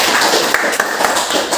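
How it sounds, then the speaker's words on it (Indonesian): Classroom of students clapping together after a short-distance running athletics lesson, a dense, steady wash of hand claps filling the whole moment at close range. "Tepuk tangan untuk kita semua."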